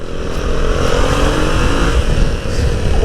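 A Yamaha MT-07 (2020) motorcycle engine roars loudly and steadily up close, revving hard as the bike accelerates, with no voices over it.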